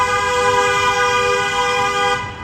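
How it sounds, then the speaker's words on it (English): Car horns honk on a busy street in Wuhan, China, one long sustained toot held for over two seconds, loud and near, with traffic rumbling underneath. "People like honking here."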